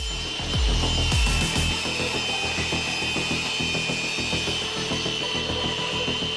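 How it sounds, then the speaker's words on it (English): Table saw cutting a wooden slat at a mitre angle, with a steady high-pitched whine from the blade and rough woody rasping throughout, plus a couple of low thumps at the start. "In order to make this mitre, we employ the table saw."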